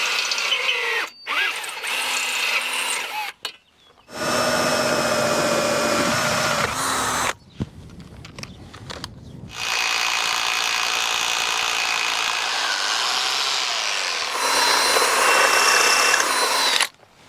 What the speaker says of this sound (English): So now we've got our 3 holes in and the hole drilled for the top for the next big stone